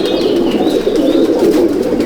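Male Andhra pigeons cooing in a loft, a low, continuous throaty burble that is loud and close, with faint higher chirps above it and no talking.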